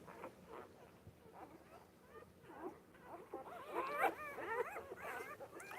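Several puppies whimper and squeal in high, wavering cries that grow louder and busier toward the end, with faint shuffling as the litter stirs and moves around.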